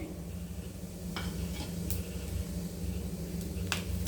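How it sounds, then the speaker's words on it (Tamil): Cinnamon, cloves, fennel and cardamom sizzling in hot sesame oil in a pan, a soft steady frying hiss with a few sharp clinks of a utensil against the pan. "எண்ணெய் நல்லா காஞ்சிட்டு தாளிக்கிறதுக்கு தேவையான பட்டை, கிராம்பு, சோம்பு, ஏலக்காய் எல்லாத்தையும் போட்டாச்சு."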